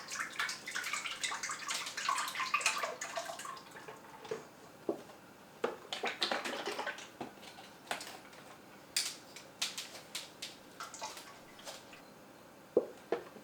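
Cream pouring into a stand mixer bowl for butter, a soft liquid trickle with light clinks and drips, quiet and close, easing into scattered small taps.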